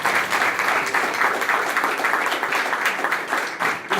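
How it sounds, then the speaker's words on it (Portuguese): A church congregation claps together for the Lord in a loud, dense, continuous round of applause that carries on steadily throughout. "Vou dar uma salva de palmas para o Senhor."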